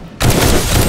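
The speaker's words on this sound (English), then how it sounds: "I think I just got shot from you." Gunfire in the video game 7 Days to Die erupts suddenly after a brief silence, a loud close burst of rapid overlapping shots filling the rest of the moment.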